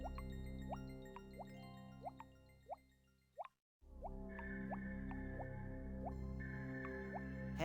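Water drips in The Pink Panther: Hokus Pokus, a 1997 PC game, with repeated clear plinking drops in a steady rhythm over a low musical drone, briefly pausing midway before resuming.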